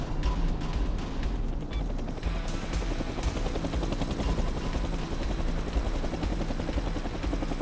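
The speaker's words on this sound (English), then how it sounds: "I need this plane off the ground in 5 minutes." An aircraft engine runs loud and steady before takeoff at an airport, a continuous rumbling roar with a few sharp clicks near the start, no talk heard.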